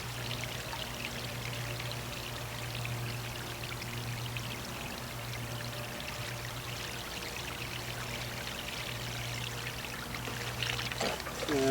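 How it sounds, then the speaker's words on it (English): Water poured from a watering can onto plant soil around the roots on a farm, a steady continuous splashing pour with low hum underneath, building slightly at the end. "we've got our watering can here. We're gonna give it a drink."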